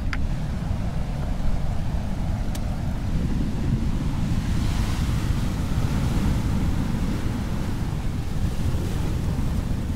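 Ocean waves breaking on a rocky shore, recorded close up with a Sony M10 recorder, a loud continuous roar of surf with a low rumbling wash and a couple of faint knocks, and no talking.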